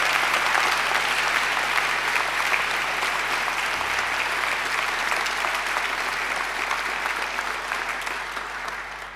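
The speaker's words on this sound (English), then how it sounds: "Let's give him another round of applause." Sustained applause from a graduation ceremony audience in a hall, dense and steady throughout, tapering slightly toward the end, with no speech over it.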